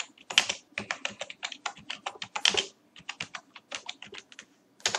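Fingers type on a computer keyboard in quick, close bursts of clicky keystrokes with a couple of short pauses, no voices present.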